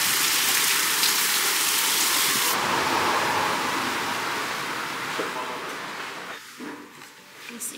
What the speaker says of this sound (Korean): 우기라더니 저희 갈 때 이렇게 비가 오네요.